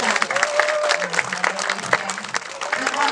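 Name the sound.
audience applause at sea lion show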